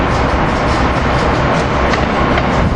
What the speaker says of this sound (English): We got Keystone Train 654 with cab car 9641 departing on schedule to New York